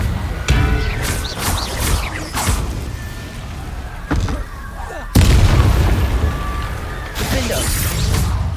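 Confringo blasts in the game Hogwarts Legacy: several booming explosive bursts land among game sounds, loud and close, with a big one near the middle.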